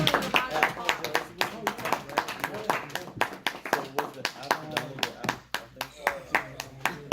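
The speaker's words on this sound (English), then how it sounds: "I can't stop clapping" An audience claps after a speech, with sharp, distinct individual handclaps in an uneven, lively rhythm, close and fairly loud, while voices talk over the clapping throughout.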